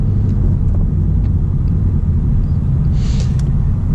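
A 2022 Ford Mustang GT driving in Sport Plus mode, a loud, steady low engine drone and road rumble heard from inside the car, continuous throughout with no talking.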